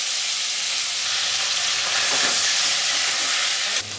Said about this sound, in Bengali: তেল গরম হয়ে গেছে, আমি সব মাছগুলো দিয়ে দেবো একসাথেই ভেজে নেব।